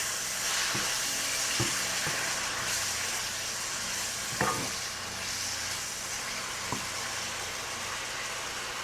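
Food with Worcestershire sauce sizzles and hisses steadily in a pan, with a few sharp scrapes and clinks of a utensil stirring it, close and continuous.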